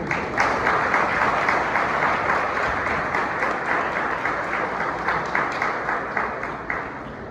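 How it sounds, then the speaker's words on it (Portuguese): A church congregation applauds during a celebration service, a steady wash of many hands clapping that holds for several seconds and tapers slightly toward the end. "vamos aplaudir o Senhor"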